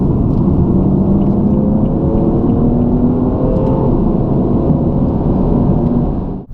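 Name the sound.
BMW M235i engine sound while stationary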